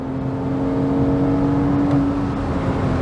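A Porsche Boxster runs hard through a series of turns, its engine a steady, loud drone with a sustained tonal whine and no noticeable rise or fall in pitch, heard from inside the car with no talking.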